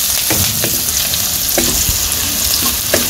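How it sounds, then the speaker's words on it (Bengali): Onions crisping in a village cooking pan before eggs are added, a loud, continuous sizzle broken by several spoon strokes stirring through, close up and alone without speech. "পেঁয়াজগুলা ভাইজে নিব, এগুলো কড়াকড়ি করে ভাইজে তারপরে ডিম দিব"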